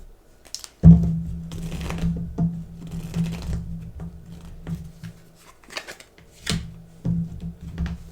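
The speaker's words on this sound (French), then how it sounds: "je mets les cartes pas trop loin, comme je peux. J'essaie de les coincer ici sur mon ordinateur" Tarot cards being laid out and handled beside a computer, with soft papery slides, flicks and taps in scattered bursts, close and fairly quiet, with a low steady hum underneath.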